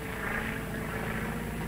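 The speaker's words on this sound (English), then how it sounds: "It's a government plane." A government airplane drones overhead in an old film serial, a steady low engine hum with faint crackly noise. It stays even and unbroken for under two seconds with no voices.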